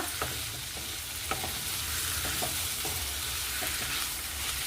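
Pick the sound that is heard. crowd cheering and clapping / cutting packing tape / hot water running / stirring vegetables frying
stirring vegetables frying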